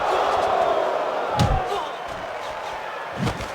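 A video game boxing crowd roars through a Pacquiao versus Corrales lightweight bout, a broad steady wash of cheering under talk, with two dull thuds of landed punches.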